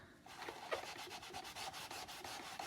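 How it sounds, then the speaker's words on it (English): Rapid back-and-forth rubbing strokes, quiet and close, as a transfer is rubbed off with Primary Elements, a steady scratchy swishing rhythm. "You really have to get that stuff off. You really have to rub."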